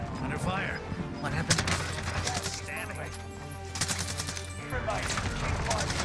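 Bursts of gunfire in a video game firefight, with rapid shots and impacts mixed with game sounds while players talk over the action.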